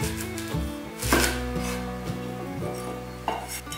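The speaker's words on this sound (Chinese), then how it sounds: "这里切成3等份" A knife chops peeled taro on a cutting board, giving a few firm close thuds as the root is split into pieces, with light scraping between strokes and a faint steady tone underneath.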